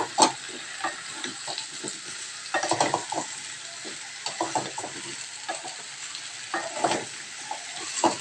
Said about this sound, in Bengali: ধুয়ে রাখা আলুগুলো দিয়ে এটার মধ্যে একটু নাড়াচাড়া করব